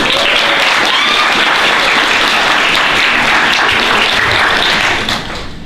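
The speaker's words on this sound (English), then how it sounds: "Get a round of applause for Bree." A convention crowd at a San Japan panel breaks into loud, sustained applause, with dense clapping that holds steady for several seconds and then drops off near the end.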